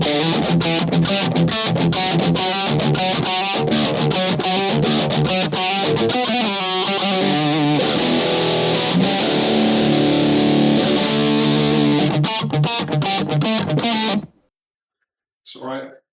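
Loud, high-gain electric guitar riffing through a Positive Grid Spark Go on the Switch Axe metal preset, tight chugging chords and sustained notes for about fourteen seconds, then an abrupt cut to silence and a brief final stab.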